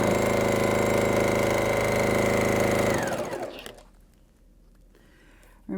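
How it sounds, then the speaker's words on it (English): A sewing machine stitches quilt seams at top speed, a fast, even mechanical hammering close by that runs loud for about three seconds before slowing and stopping. "we gotta sew at the fastest speed possible"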